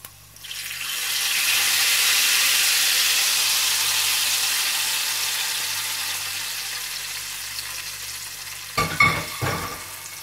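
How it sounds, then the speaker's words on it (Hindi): A sudden burst of loud sizzling as hot tempering is poured into mixed moong and masoor lentils, swelling and slowly fading over several seconds, followed by a few short clinks near the end. "इधर तड़का भी तैयार हो चुका हुआ है इसमें तड़का लगा देंगे"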